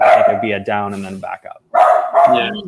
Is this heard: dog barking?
yes